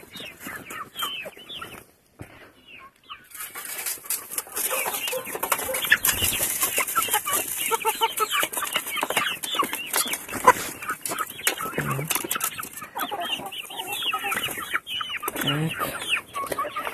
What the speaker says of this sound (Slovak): Sú tu kuratá aj leghorn, ale to sú väčšinou kohúty tu a sliepky asi také 4 sa nájdú.